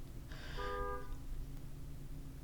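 A car horn honks outside in a short burst of layered tones, about half a second long, then fades into a steady background hum.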